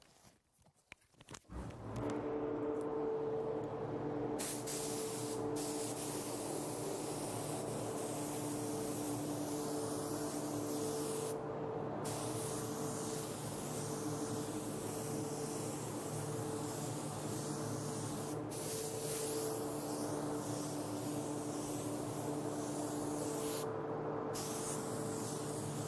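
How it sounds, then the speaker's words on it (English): A spray gun spraying Orion SilverMax paint gives a continuous loud hissing spray of compressed air, steady for over twenty seconds, with a few brief pauses in the blast. "So let's spray it up."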